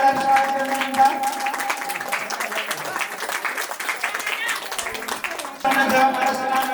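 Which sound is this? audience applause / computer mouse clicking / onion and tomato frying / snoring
audience applause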